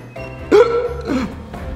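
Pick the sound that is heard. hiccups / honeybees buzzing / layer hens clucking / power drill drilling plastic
hiccups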